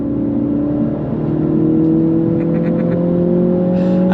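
A 2024 Mini Cooper S pulls hard under throttle, its engine drone rising steadily in pitch from inside the cabin, loud and continuous with faint clicks near the end.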